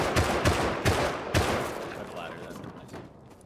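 Rapid gunfire echoes in the survival video game Rust as a player shoots at the tool cupboard, several heavy booming shots in quick succession that fade into a rumbling tail.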